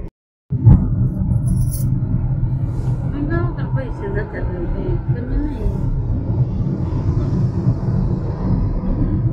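A Hyundai Aura S CNG car starts and drives along a highway, with a steady low engine and road rumble inside the cabin after a brief silent gap, and a voice talking over it.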